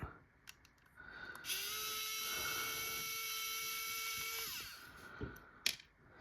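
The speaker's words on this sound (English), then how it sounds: "So let's take these screws out." A power drill or driver takes screws out of a lock, whining at a steady pitch for about three seconds, with scattered clicks of handling before and a sharp knock near the end.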